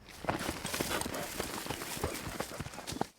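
Horse hooves clip-clopping at a steady riding gait across open prairie on the Custer Battlefield in Montana, a brisk rhythm of repeated close hoofbeats running for the whole span.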